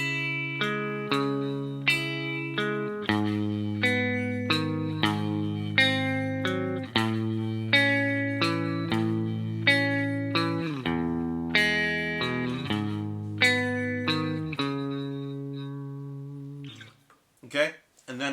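Slow chord progression on an electric guitar with effects and distortion, each chord strummed and left to ring in a steady, unhurried sequence, played alone with no talking.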